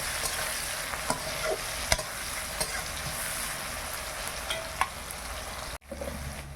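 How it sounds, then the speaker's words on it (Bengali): Onions frying in a pan, with a continuous soft sizzle and occasional sharp clicks of a spatula against the metal, close and quiet with no talk, ending in a brief cut. "পেঁয়াজটা খুব সুন্দর ভাজা হয়ে গেছে"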